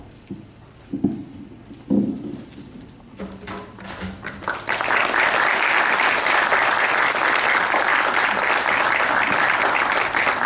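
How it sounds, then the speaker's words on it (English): Lecture audience applause closing a plenary session at an engineering conference, starting with a few scattered claps that swell after a few seconds into steady, dense clapping from the whole hall. "So with this round of applause, let us close this session and head over to lunch."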